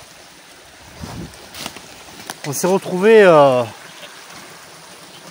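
A small woodland stream that had been dry for three years flows with a steady, broadband rush, while someone briefly speaks French over it.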